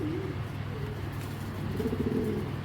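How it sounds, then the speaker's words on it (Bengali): A racing pigeon coos nearby in low, throaty rolling calls, one at the start and a longer burst near the end, over faint background hum. "এই যে আরেকজনে ডাকতেছে"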